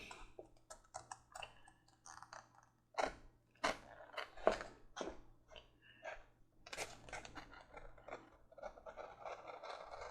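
A trim knife slicing and trimming leather for a single action revolver holster, quiet close scraping cuts and taps in short irregular bursts, with no talk.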